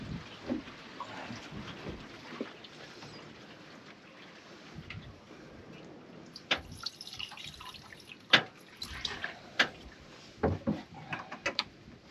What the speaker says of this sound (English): You can actually hear the coolant moving around in the motor.